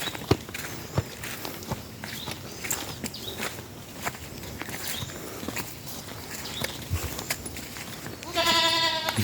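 Goats out on a mountain farm, with one clear bleat near the end over footsteps and rustling on the ground outdoors; other clacks and scuffs run throughout.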